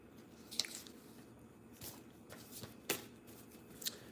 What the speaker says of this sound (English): This deck may be too big. Can't really shuffle this one.